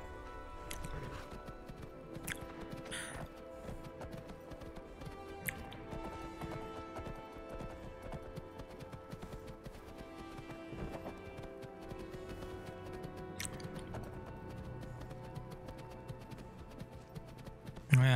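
Horse hooves clip-clop in a steady, even rhythm through the whole stretch of Skyrim riding, with occasional brief clanks and a low game ambience underneath.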